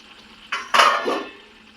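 A spoon stirs egg and potato pulao with sugar in a metal pot, two quick close scraping clanks followed by a softer rubbing scrape, then quiet.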